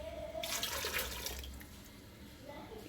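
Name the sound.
water being added to pot of rice and peas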